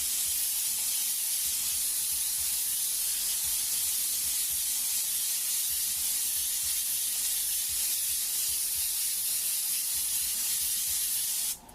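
Airbrush dusting blue paint over an airbrushed flame design, a steady, close, continuous hiss of spray lasting the whole stretch without pause, no voices.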